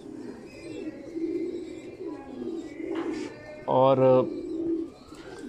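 Neela breed pigeons give soft, low cooing throughout, with one louder, closer coo near the end, while someone talks over them.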